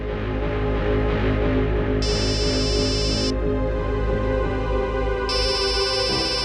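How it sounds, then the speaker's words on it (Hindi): A phone ringing in two loud electronic bursts of a shrill repeating tone, each lasting about a second, over a background of steady music. "दया का फोन?"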